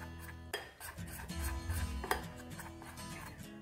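Gram flour batter mixed with salt and red chili powder in a bowl, spoon clinking and scraping against the sides in quick uneven strokes, fairly quiet and close.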